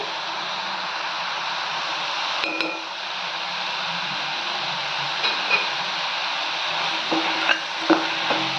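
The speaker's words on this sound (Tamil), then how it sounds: "எல்லாம் சேர்த்து நல்லா வதக்கலாம்" Spices for a dal kurma sauté in a pan with salt, chilli powder, turmeric and coriander powder: a continuous bright sizzle broken by occasional light clicks and taps of a utensil.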